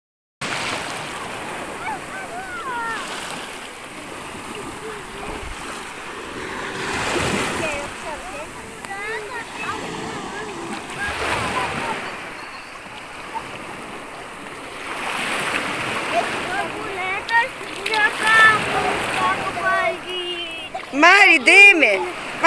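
Sea surf washes and splashes along a crowded beach where people are swimming, a steady broadband wash with occasional bursts, while children's and adults' voices chatter throughout.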